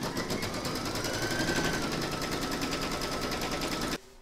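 An embroidery machine stitching in-the-hoop poinsettia bunting in red thread, a steady fast mechanical stitching rattle running continuously up close before cutting off abruptly near the end.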